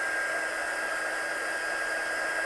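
Electric hair dryer blowing steadily to dry something off indoors, a loud continuous airy whoosh and motor whine, close and unbroken.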